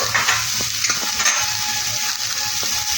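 Bell peppers and other vegetables with salt fry in a pan for a soya chunk biryani, hissing in a loud continuous sizzle while a utensil taps and stirs at intervals, close up with no voices.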